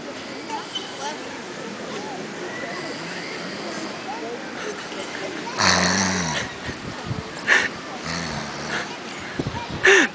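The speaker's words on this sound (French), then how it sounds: "il ronfle trop fort" A person snoring loudly on a beach, deep rasping breaths recurring in a few louder bursts, mixed with nearby people talking.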